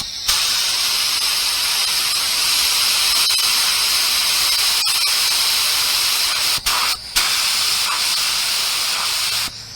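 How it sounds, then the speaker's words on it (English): A spray gun fed by a small Harbor Freight air compressor hisses steadily and loudly for nearly ten seconds while painting a car bumper, with two brief pauses near the end as the trigger is released. "Let's see if the compressor could keep up though."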